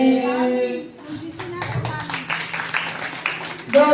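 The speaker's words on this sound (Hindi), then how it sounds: "जोरदार से ताली बजाएं सभी भगत।" Devotees at a Hindi religious gathering break into loud clapping after a voice on a microphone, the rapid hand claps building into a dense burst while a voice continues over them.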